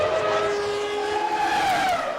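Late-1990s Formula 1 cars from the 1999 season race past as Irvine rejoins from the pit lane, a steady high engine whine rising and falling in pitch over continuous track noise.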